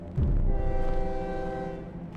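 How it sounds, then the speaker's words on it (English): Train sound effect from the horror game Slender Mod: a long, sustained tonal train horn blast over low rumbling rail noise, steady and somewhat distant, fading gently at the end. "Who needs color when you can have scary atmospheric music and the train sound effect?"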